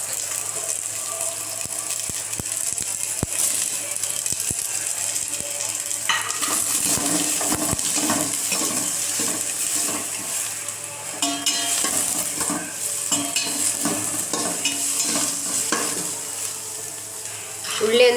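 Chopped onion sizzles steadily in hot oil as a spoon stirs and scrapes the pan, with occasional clinks and rattles of the pot throughout; the base for a vegetable biryani masala.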